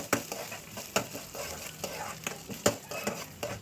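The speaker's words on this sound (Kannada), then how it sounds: "ಧನಿಯಾ ಒಂದು ಎರಡು ಚಮಚ, ಜೀರಿಗೆ ಸ್ವಲ್ಪ, ಎಲ್ಲ ಕೆಂಪಗಾಗೋವರೆಗೆ ಫ್ರೈ ಮಾಡ್ಕೊಳ್ಬೇಕು." Coriander seeds, cumin and chana dal roasting in a pan, a dense crackling sizzle broken by regular scraping stirs of a spoon, close and loud with no talking.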